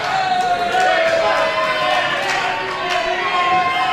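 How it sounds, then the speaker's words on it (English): A wrestling arena crowd roars in a continuous, loud, dense wash of cheering and noise that fills the space without pause. "Listen to that crowd."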